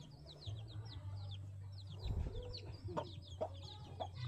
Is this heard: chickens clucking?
yes